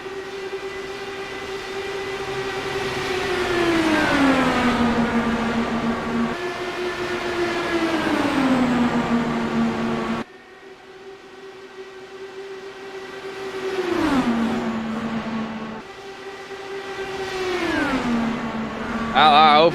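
Race cars roar past on track during a live race broadcast, repeated loud engine passes with falling pitch as each car goes by, one after another, with talk over them.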